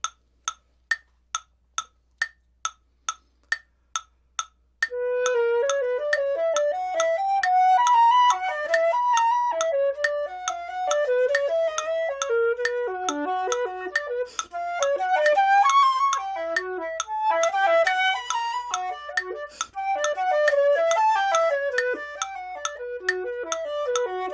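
A steady metronome clicks alone, then a flute plays a melody from Andersen's Etude Op. 41 No. 6, Andantino, wandering loosely around the beat as the ticking continues underneath.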